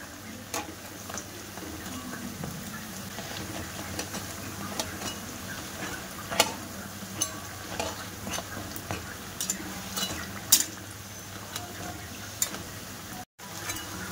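Potato chops made with flour fry in oil with a steady, close crackling sizzle that runs throughout, dotted with small pops and a few light utensil clicks.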